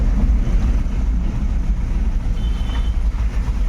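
A loaded goods truck drives along a rough road near Periyapalayam, its engine a steady, loud low rumble with wind noise throughout and no talk.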